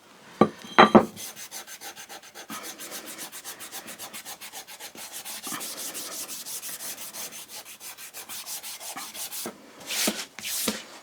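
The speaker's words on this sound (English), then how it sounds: "you can really see how effective that rust eraser is on here now" A rust eraser scrubs across a dirty diamond sharpening plate in quick, close, rhythmic back-and-forth strokes, a gritty rasping that runs continuously and grows louder near the end.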